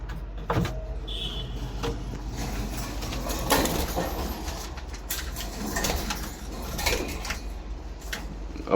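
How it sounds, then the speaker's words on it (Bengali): Soft cooing from a group of running Jalali pigeons, with low intermittent calls over a steady background hum and occasional passing vehicle noise. "আরও কিছু কবুতর আছে সুন্দর, এগুলো আমি দেখাই দিচ্ছি আপনাদেরকে"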